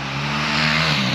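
A Yamaha YZ250F dirt bike engine revving loudly and continuously at close range, a steady, strained roar with no voices.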